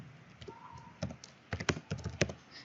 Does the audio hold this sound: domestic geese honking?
no